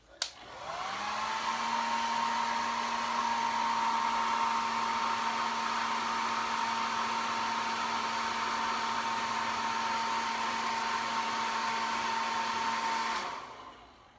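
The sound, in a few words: hair dryer blowing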